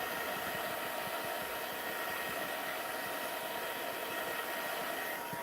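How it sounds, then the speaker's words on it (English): A heat tool blows on its low setting over inked card stock during Christmas card making, a steady, even whooshing hum with a constant airy hiss that stays unchanged from start to finish, close by and alone. "The other thing that I can do, I can bring in my heat tool, and on low."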